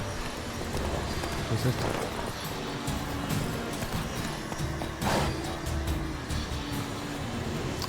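Horse hooves clip-clop at a steady rhythm in The Witcher 3: Wild Hunt, mid-loud and continuous, with someone talking over the hoofbeats.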